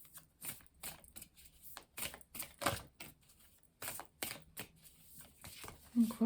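A deck of tarot cards being shuffled by hand, giving a run of crisp riffling bursts and soft slaps at an irregular rhythm, close up and fairly quiet, with no talking.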